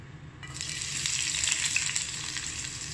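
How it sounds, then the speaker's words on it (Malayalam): Finely chopped onions hit hot coconut oil with a sudden, loud, steady sizzle that starts after a brief quiet moment and then holds close up, crackling continuously with no voices. "വെളിച്ചെണ്ണ ചൂടായി വരുമ്പോൾ നമുക്ക് ചെറുതായി അരിഞ്ഞു വെച്ച ഉള്ളി ചേർത്ത് കൊടുക്കാം"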